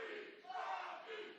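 A wrestling crowd at a Christmas special show roaring and chanting together, a brief, distant, muffled swell of many voices that rises in the middle and stays unbroken.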